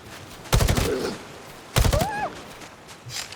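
A silenced shotgun fires twice in the video game Lost Rift, each shot a sharp muffled burst with a short rattling tail, spaced over a second apart, followed by a soft mechanical chime-like effect after the second shot.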